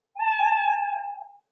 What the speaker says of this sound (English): That's the meow.